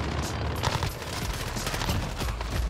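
Rapid automatic gunfire in the video game Modern Warfare, a dense rattling burst of shots that runs steadily for the whole moment, loud and close with no voices over it.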